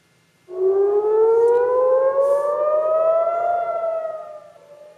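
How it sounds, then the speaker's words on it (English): Air raid sirens blare across Jerusalem and Tel Aviv during missile strikes, a single loud, sustained civil defense wail rising slowly in pitch, then holding and fading toward the end. "Air raid sirens blaring across Jerusalem and Tel Aviv tonight as missiles rain down."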